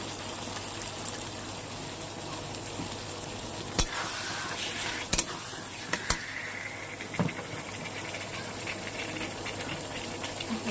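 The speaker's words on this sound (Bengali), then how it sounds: "লো ফ্লেমে এটাকে আমি রান্না করব।" Chicken sizzles steadily in a pan over a low flame, with a soft continuous frying hiss and a few sharp clicks and clatters of a utensil against the pan.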